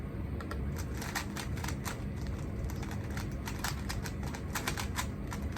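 Quick, irregular clicking of keys on a keyboard, a steady patter of light taps at close range over a faint background hum, with no talking.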